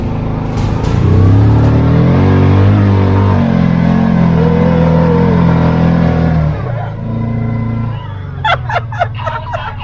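A 2023 Kawasaki Teryx 4 S Special Edition side-by-side roars loud and close, its engine note climbing and surging steadily, then easing off before a few sharp knocks at the end.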